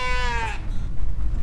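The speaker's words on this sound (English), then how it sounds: "There was a sheep stuck in that trailer." A sheep stuck in a trailer on a farm gives one close, loud wavering bleat. Low rumbling background noise continues after the call.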